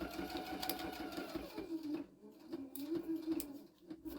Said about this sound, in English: I'm just going to sew up the sides.